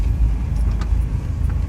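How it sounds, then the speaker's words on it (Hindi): A car idles and rolls slowly while being parked outside a temple, a steady low engine rumble close by with faint light knocks and no talk. "गाड़ी लगाते हैं"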